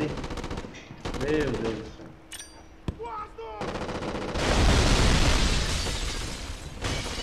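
Gunfire shootout in the PS2 video game Black, with machine gun bursts, single shots and a heavy explosive rumble building toward the end, while someone speaks briefly over it.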